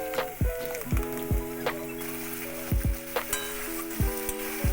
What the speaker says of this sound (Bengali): জল ঝরানো টক দই একটু আটা দিয়ে ফেটিয়ে সেটা দিয়ে দিলাম।